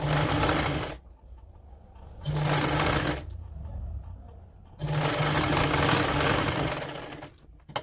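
A sewing machine stitches a woollen kurti, running in loud, steady bursts with short pauses between them, close and clear with no voices.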